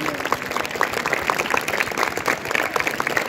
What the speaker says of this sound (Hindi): एक बार रवि सर के लिए जोरदार तालियां